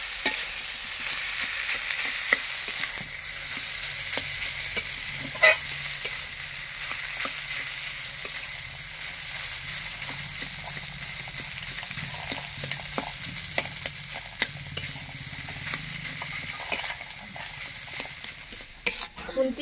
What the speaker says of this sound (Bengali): এবার আলুটাকে ভালো করে মাখিয়ে নেব।